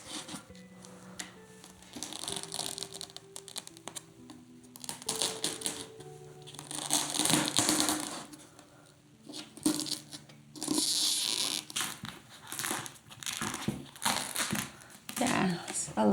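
A varnish layer is peeled off an oil pastel drawing with crinkling, crackling and tearing bursts that come and go at close range, mixed with a person talking throughout.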